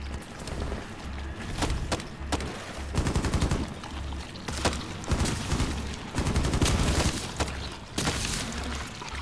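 Video game gunfire rattles out in rapid, loud automatic bursts and repeated volleys, with heavy low thuds between the shots, continuing throughout without talk.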